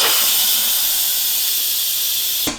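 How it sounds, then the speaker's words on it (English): Instant Pot pressure release, a loud steady hiss of escaping steam that holds evenly for over two seconds, then cuts off abruptly with a soft click. "Now I'm gonna release the pressure on the Instant Pot"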